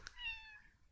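A cat in the video game Timelie gives one short, quiet meow that rises and then falls, alone over a faint background.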